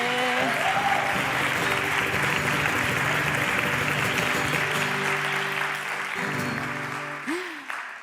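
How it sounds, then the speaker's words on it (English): A crowd at a startup venture day event in Madrid applauds finalists, a steady dense roar of clapping under music and scattered voices, thinning slightly toward the end. "Please give a round of applause to our Venture Lab finalists."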